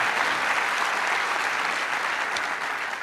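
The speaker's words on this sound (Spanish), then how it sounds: "Un aplauso para él." Steady, dense applause from a studio audience welcoming a guest on a Spanish-language talk show, loud and sustained for the full three seconds with no talk over it.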